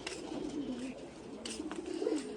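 Pigeons in a loft coo repeatedly at close range, soft throaty rolls rising and falling over a steady murmur of other birds.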